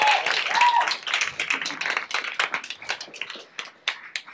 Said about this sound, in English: Big round of applause for Indy